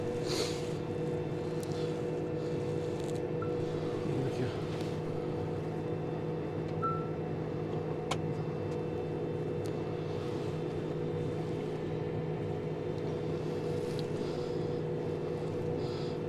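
A tractor engine pulling a Precea 12000 TCC seed drill drones on continuously at an even pitch throughout, close and constant, with no talk over it.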